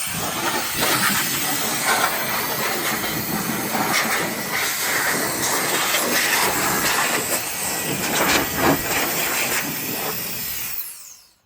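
An air blower hisses steadily and loudly for about eleven seconds, cleaning out the cabin air filter area of a Rivian R1T or R1S pickup or SUV, then cuts off abruptly at the end.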